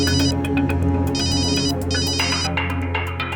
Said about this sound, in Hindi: कादिर का फोन था, कुछ इन्फॉर्मेशन देना चाहता है।